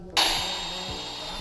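Ryobi EMS190DCL miter saw set to a 45-degree angle, its motor starting abruptly and running with a loud steady whine, close by.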